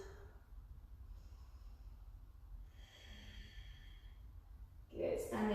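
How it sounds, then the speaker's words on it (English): Slow, audible breathing during a yoga exercise, soft inhales and exhales close by, ending in a louder breathy exhale. "And breathe."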